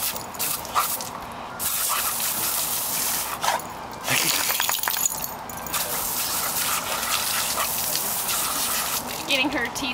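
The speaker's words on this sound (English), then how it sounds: "Getting her teeth pressure washed." A jet of water sprays against a dog's teeth, a steady hissing gush with brief breaks, close up, with people talking and laughing over it.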